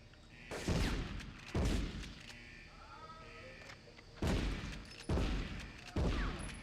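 Five loud, booming shotgun blasts in the Medal of Honor video game, spaced about a second or more apart, each with a short echoing tail and no talking.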